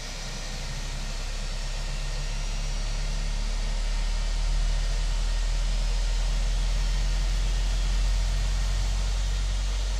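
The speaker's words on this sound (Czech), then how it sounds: "Tak a druhý motor máme taky nastartovaný" A jet airliner engine spools up in Microsoft Flight Simulator 2020, a steady, dense whooshing roar with a deep low rumble that holds evenly throughout, heard alone without talk.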